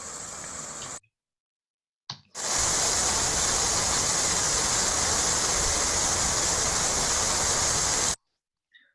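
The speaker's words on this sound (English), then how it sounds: "Sometimes, as you can see from the noise of that, it can be quite a torrent." Garden waterfall in full torrent, a loud continuous broadband rush of falling water heard close up, cut off briefly before starting again and holding steady for several seconds.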